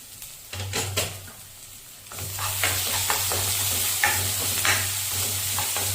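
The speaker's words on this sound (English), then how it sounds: "We just add in our ginger garlic paste to it." Ginger garlic paste hits onions in a hot pan with a loud, close sizzle, while a spoon scrapes and stirs in irregular strokes over a low steady hum.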